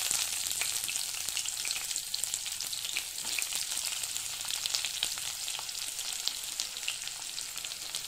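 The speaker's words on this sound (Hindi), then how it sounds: "थोड़ा सा मैं इसको सॉटे कर लेती हूँ।" Whole spices sauté and fry in a pan, a steady close sizzle and crackle with faint stirring, continuous throughout and with no talking.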